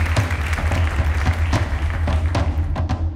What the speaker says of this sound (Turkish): Alkışlarla kardeşim Mustafa'yı da yanına alıyorum Eda.